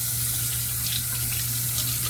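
Water runs steadily from a tap into a sink while soap is rinsed off a shaving brush, a continuous close rushing stream with no talk.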